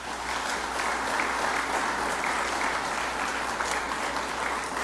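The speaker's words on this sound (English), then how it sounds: "please to warmly welcome and give them a round of applause" A dinner audience at a diplomatic reception gives sustained, dense applause to welcome the Earl and Countess of Wessex, a steady wash of many hands clapping at even loudness throughout.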